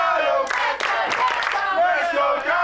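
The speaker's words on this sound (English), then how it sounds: "the crowd quite split here at Clash. You could say there's a clash of chants right now" A professional wrestling crowd at a live PW Clash show chants and roars loudly, voices split into competing rhythmic chants that fill the room continuously.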